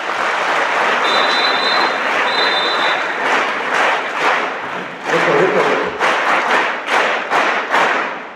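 A seated audience at an institution's gathering claps loudly for its founders, a dense, steady roar of many hands that thins toward the end into a few sharper, scattered claps.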